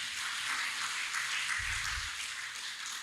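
Congregation in a church clapping together for God during a sermon, a steady wash of applause throughout with no voices.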